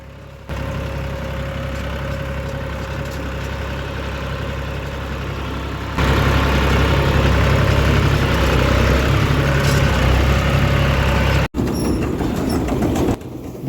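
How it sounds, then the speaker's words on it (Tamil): A paddy harvester machine's engine drones steadily while it drives toward a rice field, a continuous loud rumble that swells louder midway and briefly cuts out near the end, with no talking. "இப்போ மிஷின் வந்து நம்ம வயலுக்கு போயிட்டுருக்கு"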